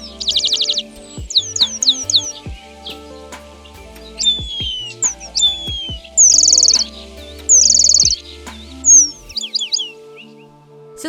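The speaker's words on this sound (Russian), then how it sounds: "Они издают пронзительный свист, который, конечно же, не похож на соловьиную песенку." Eurasian penduline tit calls: thin, piercing high whistles in short repeated bursts and a few longer sustained notes, loud and close over several seconds, with no talking.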